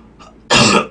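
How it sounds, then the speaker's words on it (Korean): A single harsh cough from someone outside the room, preceded by a faint short hitch, then one loud, abrupt burst lasting under half a second. "밖에 기침 소리 뭐냐고요?"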